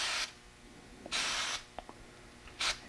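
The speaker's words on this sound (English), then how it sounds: "I'm going to spray straight up the pleat. Going to go down those pleats." Oil sprayed from an aerosol can onto the pleats of a Rotax 503 aircraft engine air filter, three close, loud hissing bursts separated by short pauses, with a few faint clicks between them.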